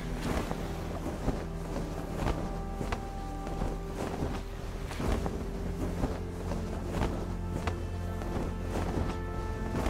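A boat sails across open water in the Sunkenland survival game, with a continuous wash of water and wind noise, steady and moderately loud, and no one talking.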